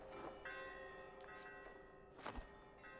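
A bell in a video game rings with a sustained metallic tone, a few dull thunks and a sharp hit layered over it, quiet and alone.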